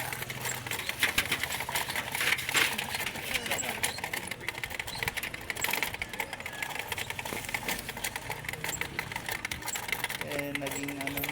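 A pedal-powered cotton candy machine with no motor spins sugar into floss, giving a steady mechanical whir and rattle with voices in the background throughout.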